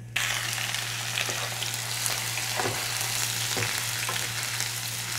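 Chopped shallots, ginger, garlic, green chilies and curry leaves fry in oil for a beef mince fry, making a constant close sizzle and crackle with a few stirring scrapes over a low steady hum.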